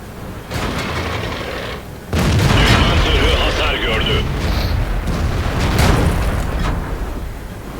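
In World of Tanks gameplay, tank cannon fire and explosions land as heavy booming blasts over a loud, continuous rumble of battle, with a voice talking over the noise.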